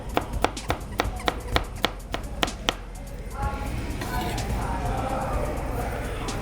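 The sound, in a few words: knife dicing vegetables for mango salsa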